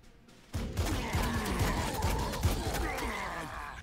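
Gunfire in the Warhammer 40,000: Sanctus Reach video game rattles out as a dense, continuous volley of shots with bursts and impacts, loud and sustained after a short quiet start.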